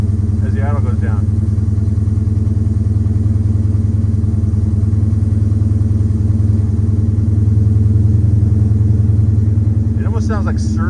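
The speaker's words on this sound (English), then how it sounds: "This is weird when it starts to warm up and the idle goes down." A 1963 Ford Galaxie wagon idles steadily as the engine warms and the idle speed drops, giving a continuous low rumble close by; someone talks briefly at the start and again near the end.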